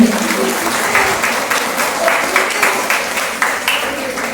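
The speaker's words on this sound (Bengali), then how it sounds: "আরো একবার জোরে হাততালি।" Loud, sustained applause from an audience at a Teachers' Day comedy play, many hands clapping densely and steadily throughout with faint crowd murmur underneath.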